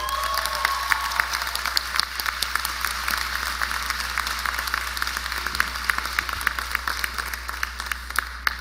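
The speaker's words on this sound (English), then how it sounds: "Mr. Ron Anderson, we applaud you." A graduation audience applauds Ron Anderson, a sustained crowd of clapping with a few scattered cheers, heard at some distance over a steady low hum and without talk.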